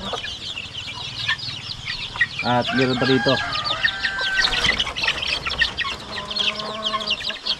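Native hens cluck and chatter steadily on a Filipino farm, with chicks peeping in a constant high-pitched background; someone speaks briefly over the birds partway through.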